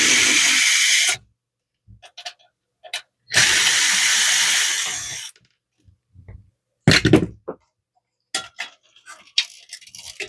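Screws coming out of a Brother HL-L2320D laser printer during disassembly: two long bursts of a small electric screwdriver whirring. Short clicks and clinks of parts and screws sit between them. Nobody speaks.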